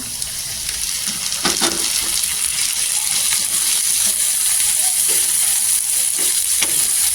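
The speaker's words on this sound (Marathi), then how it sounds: "टोमॅटो पण तेलावर परतून घ्यायचं, छान असं टेस्टी आणि सॉफ्ट होतं तेलावर परतल्यावर।" Tomato sautés in hot oil with garlic for a dry shrimp chutney, giving a steady close crackling sizzle with occasional stirring scrapes and taps throughout.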